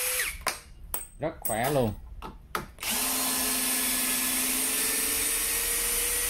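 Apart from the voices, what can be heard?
SfunPro 16V cordless drill driving out screws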